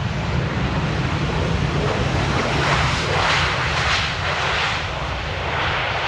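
A Boeing 737 airliner touches down on a wet, rainy runway at Amsterdam Airport, heard as a loud, steady roar of jet engines with broadband rushing wind noise, close and continuous with no talk.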